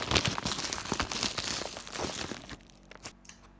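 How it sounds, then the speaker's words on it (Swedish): Small package wrapped in newspaper-like paper being cut and torn open, a dense run of close crinkling, crunching and ripping paper for about two and a half seconds, then a few fainter rustles. "Okej, det är dags att öppna det lilla paketet. Klipper upp"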